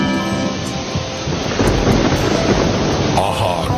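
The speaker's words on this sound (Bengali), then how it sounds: "আহা, কি বৃষ্টি!" Heavy rain pours in a dense, steady roar while thunder rumbles low and loud through the middle, close and continuous with no voices.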